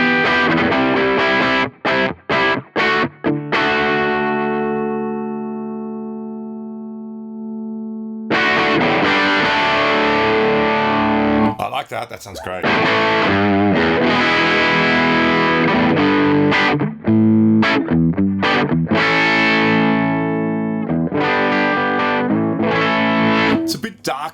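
Overdriven electric guitar through a ToneX capture of a Morning Glory boutique pedal, a few choppy strums, a long sustained chord left to ring, then busier mixed riffing, with a voice briefly commenting partway through.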